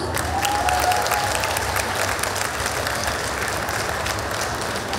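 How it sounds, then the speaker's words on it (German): Steady, sustained crowd applause fills the hall at a cosplay contest award ceremony, an even wash of many hands clapping at a moderate distance with no voices over it. "Ein Applaus für Barnis Tanzen"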